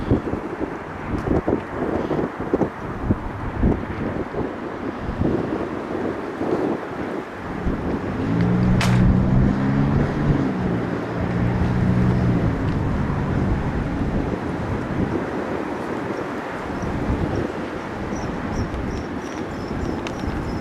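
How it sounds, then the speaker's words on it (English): Strong wind buffets the microphone at Buffalo Niagara airport, a continuous loud rumbling roar with gusts that swell through the middle, along with a faint low engine drone. No one speaks. "the wind is that intense today"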